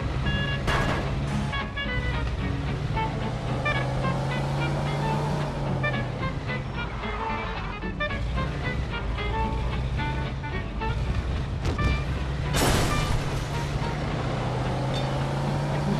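A car engine drones continuously in Mafia II as the vehicle drives, a steady low hum with shifting tones and occasional bumps and whooshes, with no talking.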